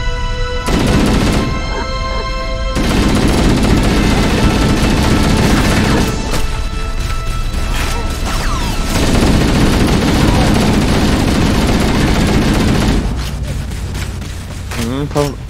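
Turret gunfire in Halo: The Master Chief Collection, with dense bursts of shots and booms running through most of the stretch and loud, continuous combat noise. Players talk over it.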